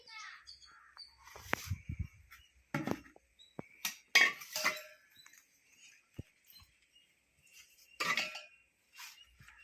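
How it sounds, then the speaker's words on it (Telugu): A metal measuring bowl clinks and taps against mango pickle pieces as they are measured out, giving sharp, irregular knocks and rattles, close and clear, with a voice speaking between them. "ఈ గిన్నెతో కొలుచుదాం."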